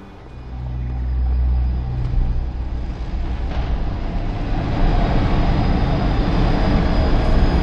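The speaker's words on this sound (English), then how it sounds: "I have to get to the aero train." An aero train in a video game rumbles loudly and continuously as it builds from a low hum into a heavy, steady rolling roar, with no voices over it.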